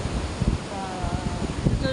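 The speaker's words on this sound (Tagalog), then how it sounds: "Masungit ang hangin. Yan, lakas ng hangin." Strong wind buffets the microphone in gusty, rumbling bursts, with rustling noise throughout and a brief faint tone near the end.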